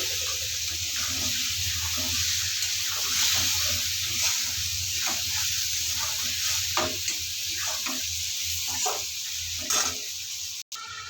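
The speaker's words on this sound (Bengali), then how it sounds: "মশলাটা ভাজা হয়ে গিয়েছে, এখানে আমি ভাজা করে আলুগুলো দিয়ে দেবো" Potatoes stir-fried in spiced oil in a pan at home: a soft continuous sizzle broken by repeated clinks and scrapes of stirring, fairly quiet, with no talking.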